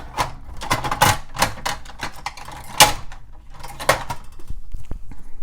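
Scissors cutting planner stickers, a series of crisp snipping clicks at an uneven rhythm, close to the microphone with brief quiet gaps between cuts.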